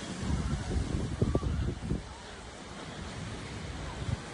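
Surf washing onto a Barbados beach at sunset, a steady broad roar of waves with wind buffeting the microphone, a few louder breaking surges early on, no talking.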